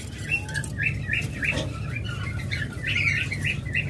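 A pair of caged birds offered for sale chirp and tweet in quick, bright repeated calls, close and continuous, with a low background hum beneath and no talking.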